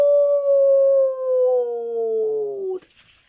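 A dog gives one long, sustained howl, a steady wavering tone that slowly falls in pitch and breaks up near the end before cutting off, heard close and alone.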